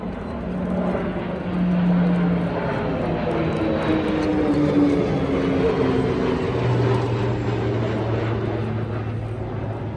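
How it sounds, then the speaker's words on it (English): One Phenom T1 jet and four Texan T1 propeller trainers fly past over the King's Birthday Parade, Trooping the Colour, in a loud, sustained overhead drone whose engine pitch shifts and slides as the aircraft pass. "Have 1 Phenom T1 and 4 Texan T1s on their way."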